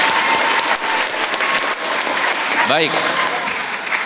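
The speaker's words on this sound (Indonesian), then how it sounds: "Maka selanjutnya kita beri tepuk tangan buat kita sendiri" A church congregation at an Easter Sunday Mass applauds, with sustained clapping from a large crowd in a reverberant hall. A voice speaks briefly over it near the end.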